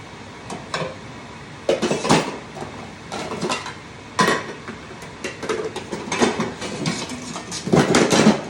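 A pan lid is handled over a stir-fry for pad thai, with clattering metal knocks and scrapes coming in bursts over a soft frying hiss, fairly close, with no voices.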